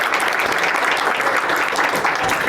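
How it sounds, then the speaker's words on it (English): An audience at a regional conservation and climate collaboration event gives its speakers sustained applause, a dense, steady wash of clapping that holds evenly loud throughout without pause. "another round of applause for our speakers."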